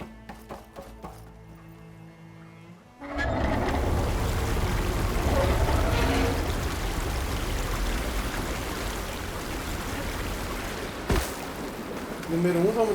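Water turned on in Horizon Forbidden West bursts in suddenly after a quiet tonal stretch, then keeps flowing as a loud, steady broadband rush that fills the rest of the clip.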